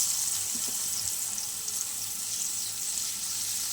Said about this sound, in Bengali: জল দিয়ে দেবো একটু।